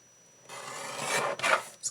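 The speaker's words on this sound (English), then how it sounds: "I'm going to take this chomper and I'm going to trim it" Scrap paper is trimmed with a chomper-style paper trimmer, giving a close, rasping cut that swells over about a second, then a shorter second scrape and a faint click.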